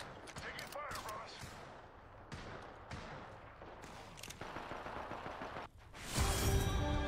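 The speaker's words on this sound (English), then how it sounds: "Taking fire, Ross." Gunfire in the battle royale game Apex Legends, quiet rapid bursts and scattered shots running through the whole clip, ending in a louder, denser blast of fire.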